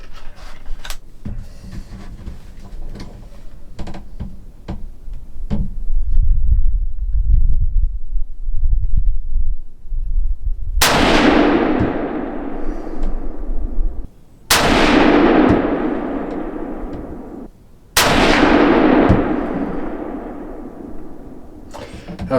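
Three loud, sharp rifle shots from a Savage Axis 110 Hunter XP chambered in 350 Legend firing Hornady FTX 165 grain ammunition, spaced a few seconds apart, each blast followed by a decaying outdoor echo, preceded by rustling and low handling noise.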